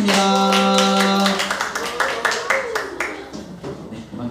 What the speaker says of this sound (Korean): 저희 박수로 마무리하도록 하고요